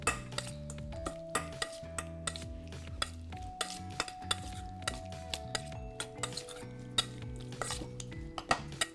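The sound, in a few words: stirring a salted mixture in a bowl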